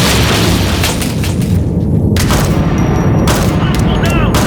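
Assault rifle gunfire in the video game Ghost Recon: Future Soldier, loud dense bursts and booming shots in a continuous firefight with game voices calling out over it.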